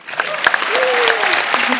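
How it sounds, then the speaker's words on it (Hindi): An audience applauds continuously, a dense patter of clapping with a voice speaking over it. "उसके लिए तालियां"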